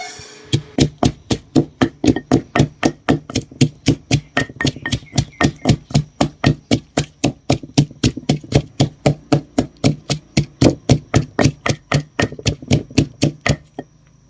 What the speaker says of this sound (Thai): พริกแห้งที่ใส่หม้อไปนะครับ เอามาตำนะครับ